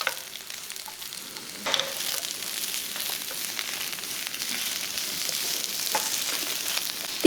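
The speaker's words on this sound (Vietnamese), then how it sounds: "Xào đều lên với lửa lớn nha." Eggplant stir-fried over high heat in a pan with garlic browned in pork fat, giving a steady, close crackling sizzle with soft stirring scrapes throughout and a brief clatter at the very end, with no talking.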